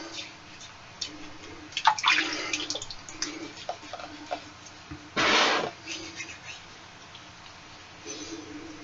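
Hot water runs from a bathroom sink tap, a steady hiss and splash heard close by, with a brief louder gush partway through and some clinks and handling noises around it.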